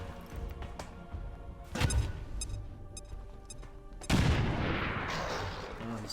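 Grenade blasts in the video game XCOM 2 Long War of the Chosen: two sharp, loud booms with crackling debris, the second bigger and rumbling on, set against quieter gunfire ticks.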